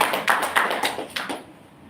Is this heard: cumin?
no